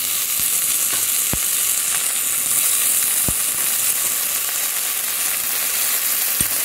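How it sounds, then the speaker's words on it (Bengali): Ginger garlic paste sizzles and fries steadily in hot oil in a pan, a loud continuous hiss broken by a few sharp clicks of a utensil against the pan. "এবার আমি আদা রসুনের পেস্টটা দিয়ে দেব।"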